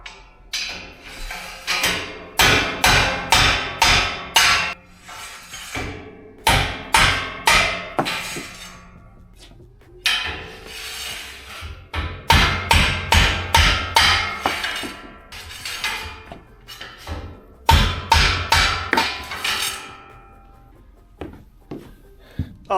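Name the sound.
hammering nylon bushings out of torsion tubes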